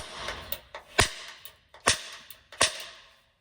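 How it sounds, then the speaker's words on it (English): Three or four sharp metallic strikes from a center punch hit into a metal kick panel of a 1970 GMC 2500 pickup, spaced irregularly about a second apart, close and crisp with no talk. "using a center punch to punch a hole right in the middle of that little"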